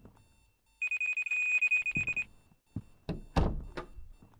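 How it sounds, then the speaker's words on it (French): In the horror video game Strange Night, a haunted house alarm rings in a rapid, steady electronic trill for over a second, followed by scattered thumps and footsteps. "J'entends toujours l'alarme."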